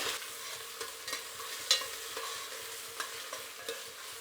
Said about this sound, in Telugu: ఇప్పుడు ఈ అల్లం వెల్లుల్లి పేస్ట్ కూడా పచ్చివాసన పోయేదాకా వేయించుకోవాలి